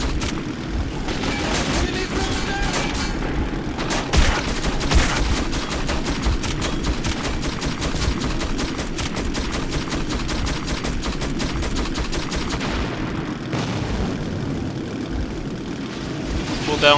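Rapid gunfire in the shooter Metro 2033 rattles on almost continuously, a loud, dense stream of sharp automatic bursts with a short lull near the end.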